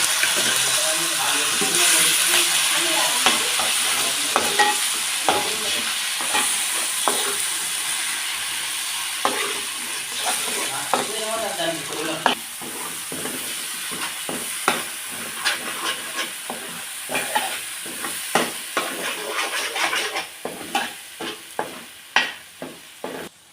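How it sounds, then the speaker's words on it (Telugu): Ground paneer masala gravy sizzles and hisses in hot oil in a pan while a spoon scrapes and stirs repeatedly, the clacks growing more frequent toward the end. "గ్రేవీ మనం మిక్సీ చేసుకున్న గ్రేవీ వేసుకోవాలండి"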